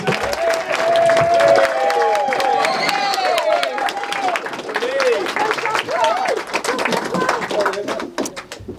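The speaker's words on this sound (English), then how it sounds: "can we please join me in a huge round of applause and welcome Noel, the father of the bride." Wedding reception guests clap in a sustained round of applause for the father of the bride, loud and steady throughout, with cheering and whoops riding over the clapping from the crowd.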